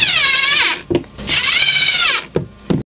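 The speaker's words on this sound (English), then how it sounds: "Let's get some screws in this guy." A power drill whirs loudly as it drives screws into a 3D printed exhaust port for a Creality Falcon 2 Pro 40W laser, with two long rising-and-falling bursts followed by short clicks and a final quick spin.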